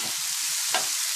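Egg fried rice ingredients with potato sauté in a pan, giving a brief burst of hissing sizzle with a couple of quick stirring scrapes.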